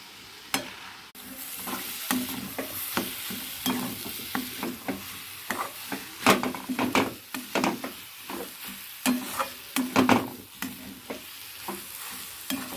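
Food frying in a pan and being stirred, a steady sizzle broken by repeated sharp scrapes and knocks of the spoon against the pan, close up and fairly loud.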